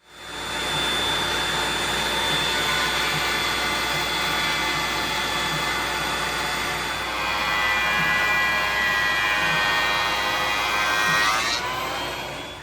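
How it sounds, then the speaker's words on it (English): Wood planer smoothing a glued-up wooden panel, a loud steady roar that runs continuously for about twelve seconds, shifting slightly in pitch partway through before winding down at the end. "I'm going to run this through the planer"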